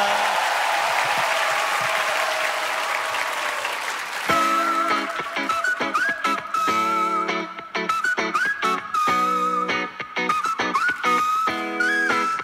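A studio audience applauds for about four seconds at a Korean music talk show before a song with piano and vocals takes over.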